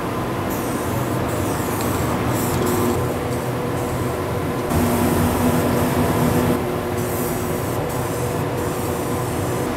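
Anti-corrosion coating is sprayed from a gun onto a Mercedes E55 AMG body panel in a body shop: a steady loud hiss continues throughout, over a constant compressor-like drone, with no talk.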